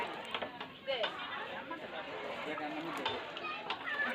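Bottle gourd kheer being stirred in a pot, Hyderabadi style, with soft scraping and swishing of a spoon through the hot milk mixture, steady and close, with faint clinks of the pot.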